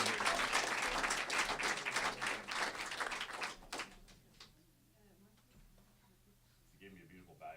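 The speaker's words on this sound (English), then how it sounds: "Round of applause." An audience gives a round of applause after a speech contest, many hands clapping loudly for about four seconds before stopping abruptly, followed by quieter room noise and a few faint voices.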